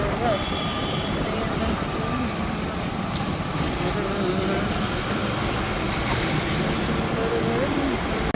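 A train rolls steadily through a railway station, its wheels squealing in thin high whines over a continuous loud rumble of rail noise.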